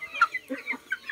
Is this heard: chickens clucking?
yes